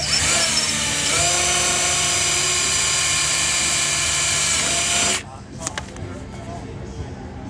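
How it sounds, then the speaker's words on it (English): A power drill bores a hole for lower bag filler bolts on a Victory Cross motorcycle, a loud steady whine with sharp harmonic tones that runs for about five seconds and then stops abruptly, leaving faint clicks and handling noise. "once you drill the hole"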